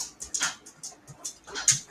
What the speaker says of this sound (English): a big dog, the German Shepherd's here